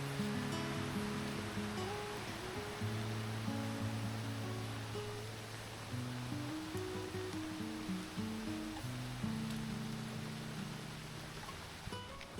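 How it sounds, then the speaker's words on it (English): Rain pours onto the jungle canopy in the valley near Tibumana Waterfall in Bali, making a dense, steady hiss that holds throughout, with a low sustained drone underneath and no voices. "the sound of the rain hitting the canopy is incredible"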